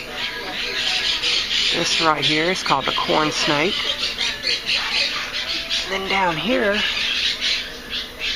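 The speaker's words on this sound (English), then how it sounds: "you can hear the birds in the background" Birds squawking loudly in bursts around a flea market, repeated harsh calls rising over someone talking nearby.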